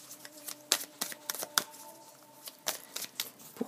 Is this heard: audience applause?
no